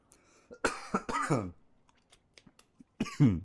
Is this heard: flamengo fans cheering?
no